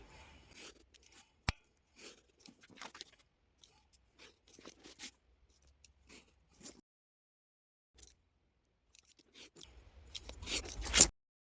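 Scissors cut a card piece for a fabric journal frame, giving quiet, sparse snips and soft paper rustles with gaps of near silence, then a louder crinkling scrape near the end.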